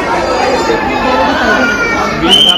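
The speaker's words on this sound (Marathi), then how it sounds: "चला ही गर्दी बघा किती बघायला झाली." A dense crowd of visitors, including children, chatters and calls out at the penguin exhibit of Byculla Zoo in Mumbai, a continuous busy murmur of many voices close by, with a brief sharp sound near the end.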